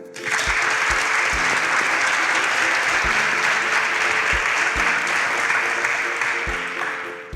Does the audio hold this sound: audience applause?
yes